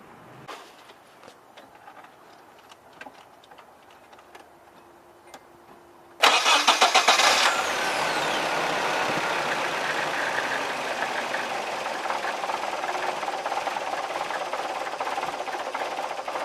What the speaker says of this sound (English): we're going to turn it over and just wait until it dies, because then fuel pressure will be relieved